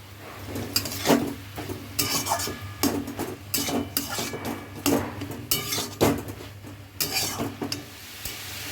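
Grated beetroot with turmeric and a little sugar frying in a pan at home, a spatula scraping and clinking rhythmically against the metal over a soft continuous sizzle, close by and without talk.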